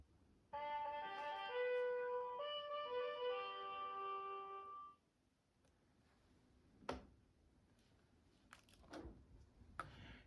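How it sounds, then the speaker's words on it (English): A single trumpet plays a short melodic phrase alone, its bright sustained notes ringing for about four seconds before dropping away to faint room noise with a few soft clicks. "here's how a trumpet sounds on its own"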